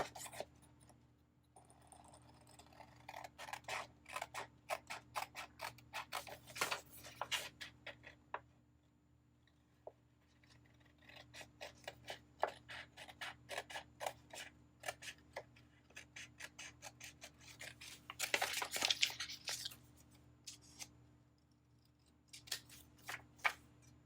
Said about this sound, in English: I'm just gonna take and cut going to cut these 2 boxes out.